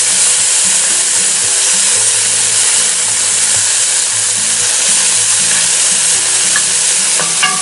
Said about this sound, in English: I'm going to go ahead, dump in all of our bacon.